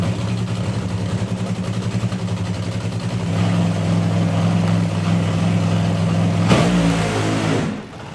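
A drag racing car with about 11,000 horsepower launches at an FIA Main Event, its engine roaring loud and steady with a harsh, pulsing drone that swells, then briefly cracks and cuts away near the end.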